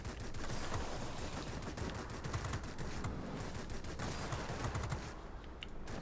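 Machine guns on an Antonov M plane in World of Warplanes fire in a sustained, dense rattle of rapid shots, loud and continuous with brief dips near the end.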